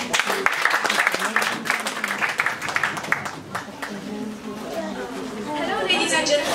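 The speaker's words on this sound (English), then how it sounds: "Guys, let's applause." Applause and cheering from a group at a tech design presentation, clapping bursts mixed with crowd chatter and voices, loud at first and thinning toward the end.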